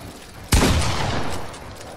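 Gunfire in the horror video game The Evil Within: one sharp, loud blast lands suddenly, followed by a short burst of rattling shots and echoing noise that fades over about a second.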